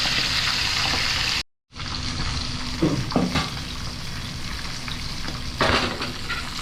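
Tilapia frying in a pan, a loud continuous close sizzle and crackle with a sudden brief dropout, then a few clinks and scrapes of a utensil against the pan over the steady hiss.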